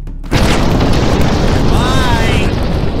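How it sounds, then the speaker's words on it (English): A rocket launcher blast in the video game Dino Golf erupts as a loud, sustained booming roar after a brief quiet start, filling the whole clip with rumbling explosion noise. "A rocket launch."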